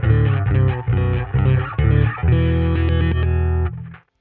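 Bass guitar played through a Line 6 Helix Tweed Blues Normal guitar amp model, based on a Fender Bassman, gives loud, gritty, distorted notes in short repeated chugs before a longer sustained chord that cuts off abruptly.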